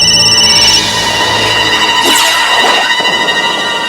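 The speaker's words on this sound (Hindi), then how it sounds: "मम्मी तुम्हारे फोन वागे छे।" Telephone ringing indoors in a household scene from a Hindi crime drama, a loud, continuous electronic ring that sweeps in pitch and carries on without any speech.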